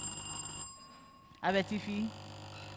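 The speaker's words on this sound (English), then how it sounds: "When you are ready to give an answer to the question, you ring your bell to alert me." Bells rung by contestants at a Ghanaian secondary-school science and maths quiz, a few short metallic rings bunched together after a quiet pause, heard close and fairly loud over a steady room hum.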